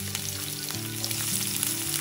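Green chillies and chopped onion frying in a pan for a beans and egg bhurji, a steady close sizzle with soft stirring scrapes throughout, no voices.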